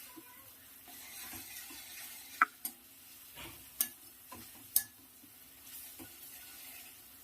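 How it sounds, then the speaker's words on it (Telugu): Ginger garlic paste frying with onions in a pan for a tomato egg curry: a soft steady sizzle broken by a few sharp ticks and clinks of a spoon against the pan, fairly quiet, no talking. "అల్లం వెల్లుల్లి పేస్ట్ మంచిగా వేగాలి ఇందులో."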